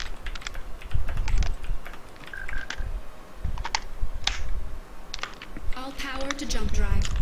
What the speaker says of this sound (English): I can hear you typing, Tyler.